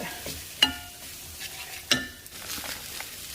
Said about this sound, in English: I'm gonna let these saute for a little bit.